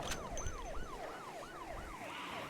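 A vehicle siren in the Project Zomboid video game wails in a steady rising-and-falling cycle, repeating about five times at a moderate, somewhat distant level.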